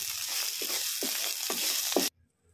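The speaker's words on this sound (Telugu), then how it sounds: "పక్కన పెట్టుకున్న కాకరకాయను కూడా వేసుకొని ఫ్రై అవనివ్వాలి।" Bitter gourd frying in a pan with spices, a steady close sizzle broken by a few stirring scrapes at regular intervals, cutting off abruptly near the end.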